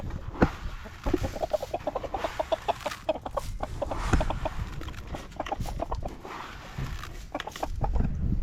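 Hens in a chicken coop cluck steadily and busily, a dense run of short clucks and squawks close by throughout, with no talking.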